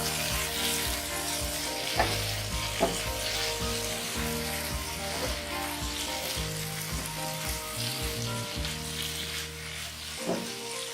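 Tomato stirred into ivy gourd and potato frying in a pan, with a constant close sizzle, occasional spoon clinks against the pan and a low steady hum underneath; no speech.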